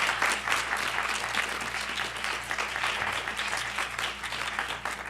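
An audience gives a sustained round of applause after Bryan Mark Taylor's presentation at BYU, even, full clapping from a crowd in a hall, with a low steady hum underneath.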